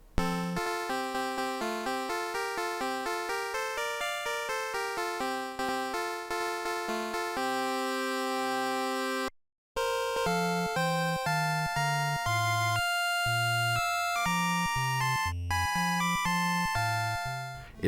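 Dragon Quest music from the NES plays as bright, square-wave chiptune melodies over a pulsing bass, with one brief gap before the tune resumes, steady and loud with no voices.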